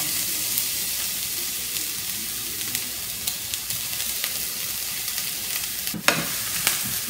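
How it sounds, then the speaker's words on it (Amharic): Chopped onions fry in about two spoons of olive oil in a single pot, a steady bright sizzle running throughout with occasional sharper crackles and stirring scrapes, close and fairly loud with no talk. "ሽንኩርት ይጠበስ።"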